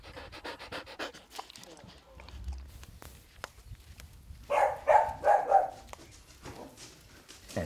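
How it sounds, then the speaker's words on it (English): A dog pants in quick, breathy bursts near the microphone, with a louder run of panting in the middle and faint background noise around it, while a voice speaks. "Fully pant so I can regulate my temperature."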